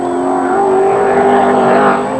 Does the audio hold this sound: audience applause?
no